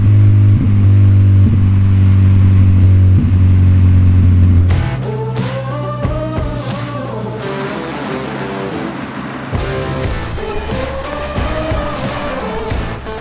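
A Renault Clio Mk2 without a catalytic converter, fitted with a stainless exhaust, a straight-through middle silencer and a semi-straight rear box, gives a loud, steady low engine drone. After about five seconds it drops away and tonal background sounds take over.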